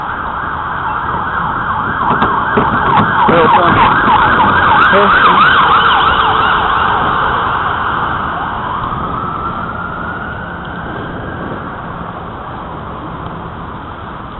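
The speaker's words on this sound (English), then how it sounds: "Fire or ambulance, I think." An emergency siren from a fire engine or ambulance wails and sweeps as it passes in winter along the former Pittsfield and North Adams railroad line, now a bike trail, loud up close before fading slowly; a brief voice speaks over it.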